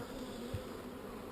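Bees buzz as a steady, dense drone around an opened Layens hive, close and continuous, with a brief low thump partway through.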